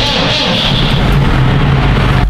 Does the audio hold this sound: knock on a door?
no